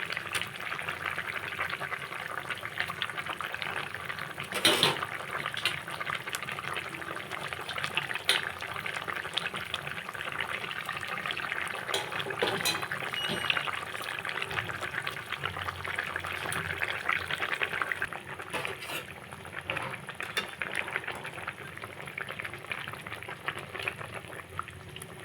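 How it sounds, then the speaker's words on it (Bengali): Broth with potatoes for a spicy pangas fish curry with yardlong beans boils in a pot, giving a steady, close, continuous bubbling and rolling simmer for the whole stretch with no voices. "ঝোল খুব ভালো করে ফুটে গেছে"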